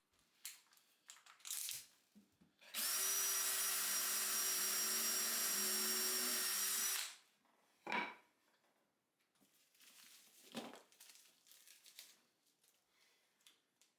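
A drill bit bores into wood with a steady, loud, high whir that lasts about four seconds. Softer handling clicks and bumps come before and after.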